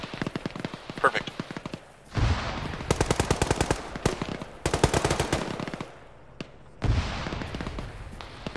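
Machine gun fire in the military video game Arma, with repeated loud bursts of rapid automatic shots split by short pauses, close and harsh, with voices over radio chatter mixed in.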